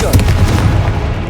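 A Confringo blasting spell exploding in Hogwarts Legacy, one loud, dense, booming burst that fills the whole moment with a rumbling low roar and crackle, close and forceful.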